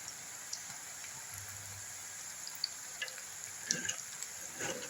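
Onion pakoda batter frying in hot oil, a faint steady sizzle with soft crackles and a few brief pops, fairly quiet throughout with no talking.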